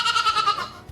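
A single goat bleat, loud and close, a wavering cry lasting under a second that fades at the end.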